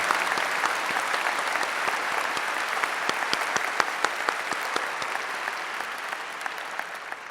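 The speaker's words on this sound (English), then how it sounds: "A round of applause for moms." An audience applauds mothers at a 2015 KCU medical school commencement ceremony: a steady, dense wash of clapping from a large crowd in a hall, with sharper individual claps standing out throughout and no talking.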